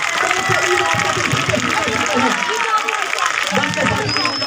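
A crowd at an outdoor Peace Party political rally in India applauds and cheers to welcome a speaker, a sustained wash of clapping and hubbub under a voice on a loudspeaker.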